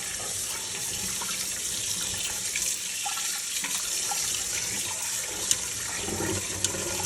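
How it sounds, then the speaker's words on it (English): Tap water runs steadily into a pot of rice being rinsed in a kitchen sink, a constant splashing hiss with a few small clinks from the container. "Now I'm going to run some more water back through it"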